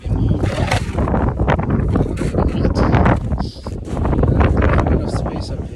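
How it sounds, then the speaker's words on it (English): Strong wind buffets the microphone up on an exposed stone fort on a winter night, a loud, continuous roaring rumble with gusting surges and a brief lull midway. "I don't like this spot tonight because it's much too windy"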